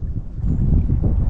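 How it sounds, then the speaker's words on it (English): Steady low wind rumble buffeting the microphone, a continuous gusty roar with no voices. "This wind is blowing."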